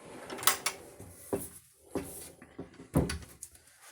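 A solid CVG fir pocket door on a tiny house bathroom slides and knocks in a few separate bumps and thuds, fairly close and quiet, with short pauses between movements.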